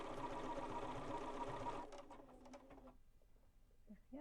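A BERNINA sewing machine stitching appliqué hums steadily at close range for about two seconds, then slows into a few separate stitches and stops, leaving quiet room noise.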